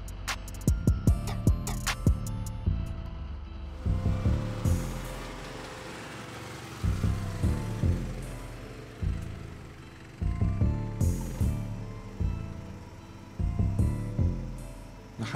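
Homemade DIY tank with hydraulic steering moving outdoors, a low rumbling engine with repeated clanking, knocking bursts in uneven clusters over about fifteen seconds, near and fairly loud.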